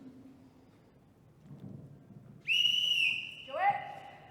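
A referee's whistle at a Lei Tai fighting platform sounds in a sharp, loud blast followed by a lower second note, after a quiet stretch with faint low murmur.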